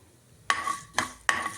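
Three quick bursts of crackling and popping as mustard seeds and urad dal splutter in hot ghee, close and fairly loud against a quiet background.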